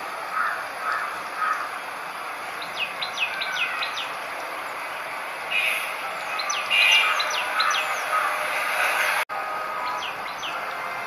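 A prenjak calls near its nest in the wild, with repeated short chirping phrases over a steady bed of insects and frogs. Rain is falling and people murmur faintly in the background.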